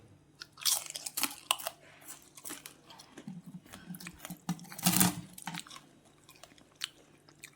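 Crunchy fried sun-dried pumpkin vadiyalu being chewed close up, a series of sharp crisp crunches and bites in an irregular rhythm against a quiet background.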